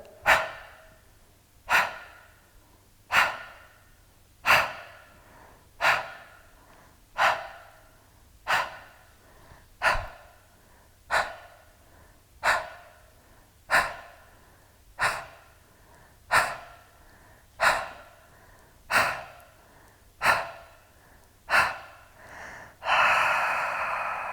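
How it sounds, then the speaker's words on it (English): Percussive forced exhalations from Pilates breathwork: about eighteen sharp, evenly spaced out-breaths roughly every 1.3 seconds, close and clear, ending in a longer breath. "Percussive breath, forced out breath."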